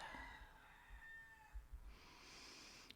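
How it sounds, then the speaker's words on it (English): A rooster crows once, a faint, drawn-out call heard from a distance against quiet background noise. "Accept any sounds like a rooster crowing"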